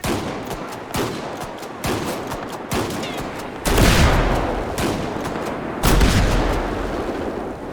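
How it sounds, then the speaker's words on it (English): Overhauled shotgun blasts from a GTA V LSPDFR police mod game: loud, booming shots fired one at a time, the first few lighter and evenly spaced, then two heavier blasts each trailing into a long echoing decay, with no talk. "And last but not least, a shotgun."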